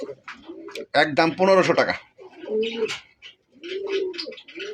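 Male pigeon of a local breed cooing close by in repeated throaty, rolling bursts, interleaved with someone talking.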